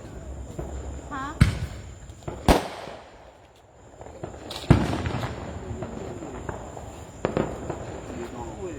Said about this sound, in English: I see the fireworks.